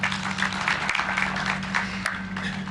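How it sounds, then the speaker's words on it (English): An audience applauds long-serving KCPE examiners at the Kenyan 2023 national exam results announcement, with steady, moderately loud clapping over a constant low electrical hum and no speech. "Please clap for them."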